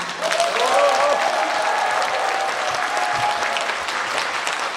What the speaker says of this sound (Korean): 지금부터 박수 계속 쳐주시면 되시겠습니다